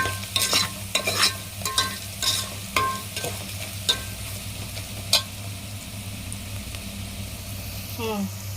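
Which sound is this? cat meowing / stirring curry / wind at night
stirring curry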